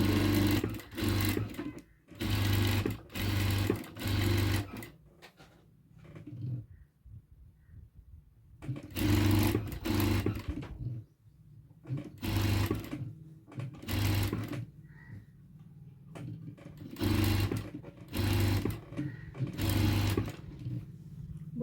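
A sewing machine stitches along a chalk mark on blouse fabric in quick bursts of steady whirring hum, several runs separated by pauses, fairly close and alone with no talk.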